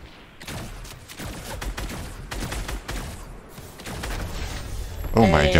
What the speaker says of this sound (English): Henry, that's a bot you're shooting at